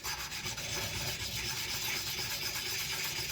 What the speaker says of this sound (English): get the oil stone and just smooth out that edge a little bit